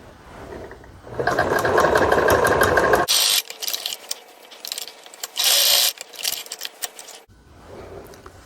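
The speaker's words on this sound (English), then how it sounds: "I'll just go to my sewing machine, secure this end and secure this other end too" A sewing machine runs in steady bursts, its fast mechanical stitching loud and close, with brief stops between runs.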